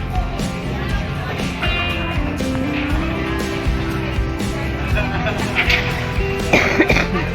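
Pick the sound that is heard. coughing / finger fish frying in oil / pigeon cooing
coughing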